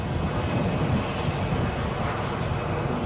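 An easyJet Airbus A320 on final approach at Edinburgh gives off a steady, moderately close jet rumble with no break in the noise.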